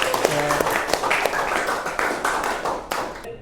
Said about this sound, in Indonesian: Berikan aplaus sekali lagi buat Hawa.